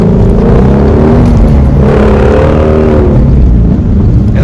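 A flat-plane-crank V8 car engine revs loud and close, its strained tone climbing and falling in repeated sweeps over a constant heavy roar, with no talking.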